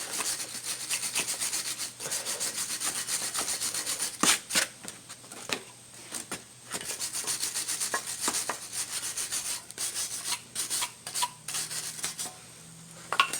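Brake parts on a 2004 Chevy Impala are scrubbed with a big brush and brake cleaner, giving steady close scratchy rubbing in uneven bursts with a few brief pauses, with no talk over it.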